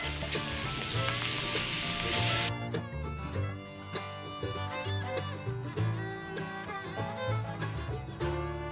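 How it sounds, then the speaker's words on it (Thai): Salted daikon radish stir-fried in a hot pan, throwing off a loud, steady sizzle and spatter. A utensil stirs and tosses the pieces close by, and the sizzle eases slightly partway through. "ใส่ลงไปเลยครับ แล้วก็ผัดคลุกเคล้าให้เข้ากันเลยนะครับ ผัดให้หัวไชเท้าสุกพอประมาณนะครับ"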